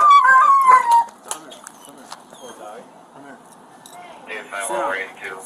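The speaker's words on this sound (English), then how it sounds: "Hear the dog's cries?" A dog whimpers and cries at night at a gas station amid police activity, giving high thin whines at the start, then softer intermittent sounds as people talk nearby.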